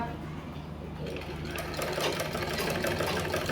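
A sewing machine runs steadily while stitching piping, a fast continuous mechanical whir with a quiet voice partly over it.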